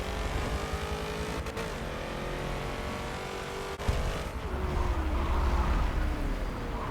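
Race cars in Forza Motorsport 7 roaring through a final hairpin, engine tones rising and falling as they brake and accelerate close behind another group, with a sharp bump midway and no talk.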